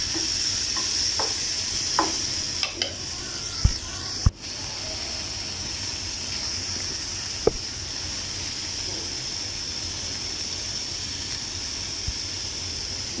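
A pan of food seasoned with black pepper is stirred over the heat, making a constant low sizzling hiss with a few scattered clicks and scrapes of the spoon against the pan.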